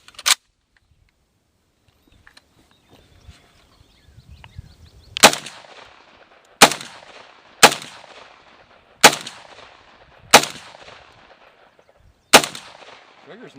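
Gunshots from an Arsenal SGL AK-style rifle at an outdoor range: one sharp report, a pause, then six loud single shots spaced about a second apart, each cracking and echoing out.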